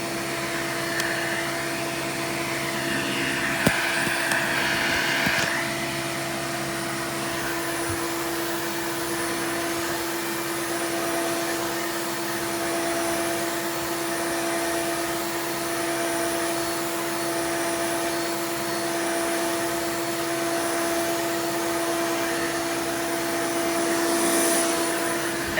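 A Hoover Elite 350 vacuum cleaner with its original upholstery tool attached runs in a steady, close, continuous whine and drone, holding an even level from start to finish.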